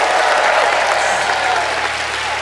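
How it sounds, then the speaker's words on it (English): Studio audience applause on a magic competition show, a dense, loud wash of clapping that holds steady throughout with faint voices mixed in. "Give a huge round of applause."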